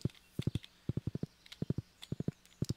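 A horse's hooves clip-clop steadily in the Stardew Valley video game, brisk clusters of crisp, close hoof taps repeating in a walking rhythm with no other sound.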